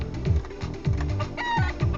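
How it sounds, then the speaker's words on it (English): Chickens in an RPG Maker VX Ace casino mini-game cluck in loud, repeated bursts when caught, several clucks in quick succession over a steady game background. "They make a little clucking sound when we get them."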